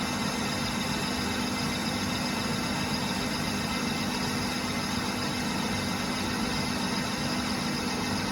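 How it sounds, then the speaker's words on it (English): A Myford lathe takes a light final skim cut, producing a steady, continuous mechanical hum and whir at close range with no audible variation or talk throughout. "This is the final cut, skimming a little off."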